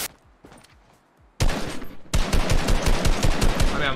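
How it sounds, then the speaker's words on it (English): Bursts of rapid automatic gunfire in the video game Fortnite, quiet sporadic shots at first, then loud sustained volleys that grow denser and heavier toward the end, with no voices. "I'm literally shooting at his head"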